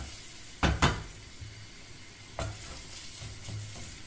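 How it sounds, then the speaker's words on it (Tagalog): Onion and carrot in oil that is just heating in a frying pan, with a couple of sharp clanks of a utensil against the pan and a few soft stirs over a low, quiet sizzle. "Tapos, mix natin."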